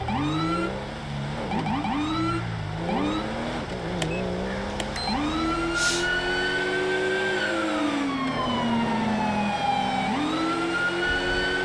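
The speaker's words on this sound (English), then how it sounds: "I got that siren." A video game siren wails, rising and falling repeatedly over a running engine, loud and close, sweeping through long up-and-down tones.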